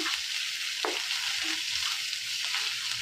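A paste of green chili, ginger and garlic fries in oil with a steady, dense hiss and crackle, broken by a few soft stirring scrapes, close and without voices.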